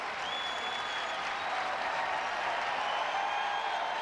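A baseball crowd at a Cubs home game against the Giants roars in a steady wash of cheering that holds at a moderate level, distant and sustained, with a faint whistle tone running through it.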